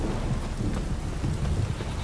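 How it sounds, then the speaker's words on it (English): Heavy downpour in The Witcher 3 video game, a dense continuous roar of rain with low rumbling thunder rolling underneath, loud and close. "This downpour's a bastard"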